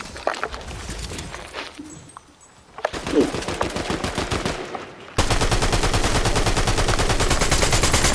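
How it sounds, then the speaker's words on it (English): Rapid automatic gunfire in a shooter video game, bursts of shots with short gaps, then a sustained loud string of fire near the end. "the recoil is harder to control. The gun gets a little bit more of a kick to it once you use it more."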